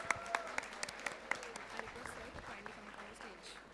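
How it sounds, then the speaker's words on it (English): A conference audience of students applauds at a valedictory session, a crowd of scattered claps rolling on steadily at moderate distance, with some sharper nearby claps standing out. "A huge round of applause for him"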